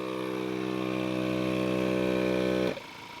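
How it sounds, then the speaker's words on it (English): An onboard air compressor in a 4WD vehicle runs with a steady, even mechanical hum, close by, then cuts off abruptly near the end. "So we now have the compressor running."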